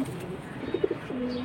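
Domestic pigeons kept for sale, among breeds such as silver, khaki and red-tailed fancy pigeons, give a few soft, low coos in a short cluster midway through, fairly faint against quiet background noise.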